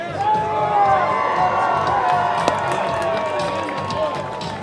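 UTSA supporters at an NCAA baseball Super Regional game in Los Angeles send up steady cheering and clapping, a dense crowd roar with scattered whistles and shouts that holds level throughout.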